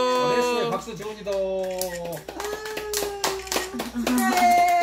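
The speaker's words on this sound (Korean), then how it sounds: "박수." Clapping at a family birthday celebration, a burst of handclaps mixed with children and adults singing and cheering close by.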